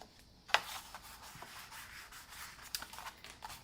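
Scissors or a blade cutting through box card along a score line: a sharp initial snip followed by a series of soft scraping, rubbing cuts, close and quiet with no talking.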